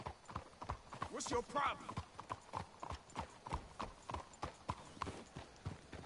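Horses clip-clopping in the video game Red Dead Redemption 2, a steady rhythmic run of hoof beats close by, with a brief snort or whinny and a short spoken line over them.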